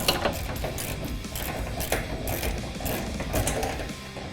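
Ratcheting wrench loosening the 19 mm strap bolts on a Ford Powerstroke cab-chassis fuel tank, a steady run of rapid mechanical clicks heard up close with no talk.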